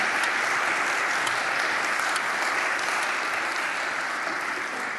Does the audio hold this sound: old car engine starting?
no